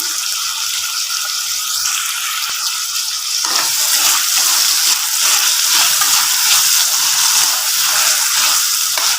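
Tomatoes and salt added to softened onions frying in a pan for a ladies' finger tamarind curry; loud, close, steady sizzling and hissing that grows brighter after a few seconds, with no voices.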